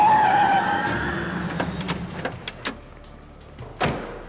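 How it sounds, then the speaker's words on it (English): A police car skids in a TV drama episode, a loud tire squeal fading out, followed by several sharp thuds like car doors slamming. "That's got to be a cop car."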